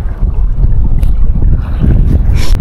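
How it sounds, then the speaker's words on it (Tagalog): Strong wind buffets the microphone in a constant low rumble during a fishing outing, with faint splashing and knocks underneath, loud and close. "Kasi malakas na yung hangin."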